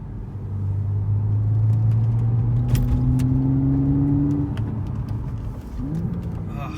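An Audi S5 Coupe drives through a series of turns, its engine note humming steadily and climbing in pitch, then easing off and shifting as it slows, with road rumble underneath throughout.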